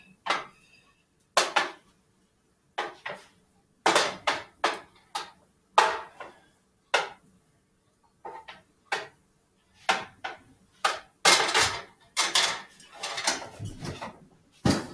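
Tater tot hotdish being mixed in a dish, a series of scraping clinks and knocks of a utensil against the dish in irregular bursts with quiet gaps between.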